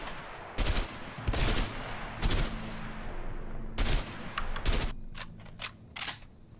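Shots from a gun in A Way Out hit empty houses, with loud separate bursts of gunfire ringing out at irregular intervals and a few quick closely spaced shots near the end, and quiet between them.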